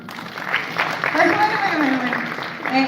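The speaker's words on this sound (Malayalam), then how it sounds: "നമ്മളെല്ലാരും ചേർന്ന് ഒരു കൈയടി കൊടുത്താൽ അശോകൻ സാർ വരും" An audience at a film audio launch claps together in a sustained burst of applause, with voices and cheering mixed into the clapping.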